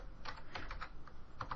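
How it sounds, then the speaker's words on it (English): Light, quick keystrokes on a computer keyboard click in an uneven run of soft taps, close and faint, with no talking. "I'm going between the 2 of these by pressing tab on the keyboard"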